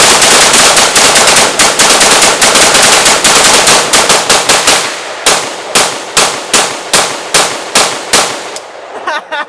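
A 9mm gun fed from a 40-round magazine fires a long rapid string of loud, close shots, then slows into separate spaced bursts before stopping.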